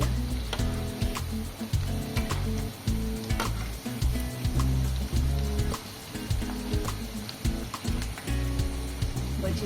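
Cabbage pakoda frying in hot oil: a loud, close, steady sizzle and crackle with frequent sharp pops and spatters, continuous throughout.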